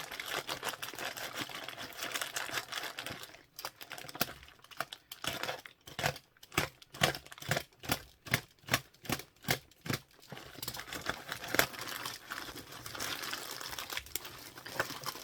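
Plastic packaging from a Temu parcel crinkles and tears as it is opened, a close run of rustling that breaks into a rapid series of rhythmic crackling bursts before settling back into looser crinkles.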